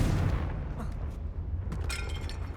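Explosive blast from the Confringo fire spell in the video game Hogwarts Legacy, a heavy low boom with crackling, shattering debris lasting the whole moment, loud and close.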